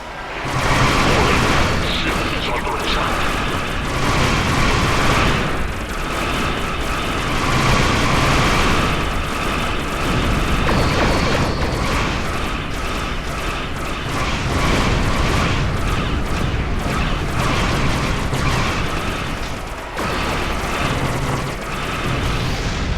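Loud, continuous rumbling booms and blasts from a battleship being destroyed in the space combat game Star Trek Online, dense game explosions layered over a steady roar with no talk.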